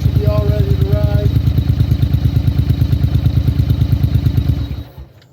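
A motorcycle engine idles steadily after its spring start-up, a loud, close, even throbbing pulse that holds for about five seconds before fading out, with no talking.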